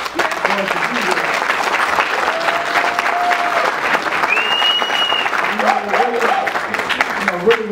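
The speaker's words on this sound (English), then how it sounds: "if everybody can give Wickenburg applause" Enthusiastic clapping fills the hall at a racing awards banquet, loud and continuous, with sharp whistles and scattered shouts breaking through the crowd noise.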